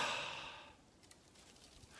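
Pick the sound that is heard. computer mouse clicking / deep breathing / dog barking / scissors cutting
deep breathing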